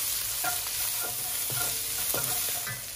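Garlic and salted black bean paste frying in a hot wok, stirred with a utensil: quiet continuous sizzle with soft scraping strokes repeating roughly every half second, no voices.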